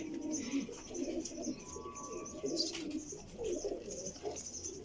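Pigeons from a breeder's loft coo steadily and overlapping throughout, soft throaty calls close by with faint chirps mixed in and no talking.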